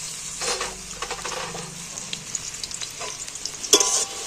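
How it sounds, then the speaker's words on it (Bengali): Chopped onions frying in hot oil in a wok, a close hissing sizzle with intermittent spatula scrapes and stirring clatter, and a sharp knock near the end, with no talk. "তেল গরম হয়ে গেছে, পেঁয়াজগুলো তুলে দিচ্ছি।"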